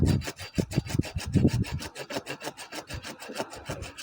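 A hand saw cuts through the wood of a plum tree with steady, rhythmic back-and-forth rasping strokes, close and fairly loud, and the strokes come quicker toward the end.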